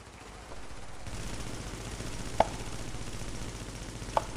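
Gunfire in The Division shooter game: two sharp, isolated shots crack out of a steady low background rumble, one near the middle and one toward the end.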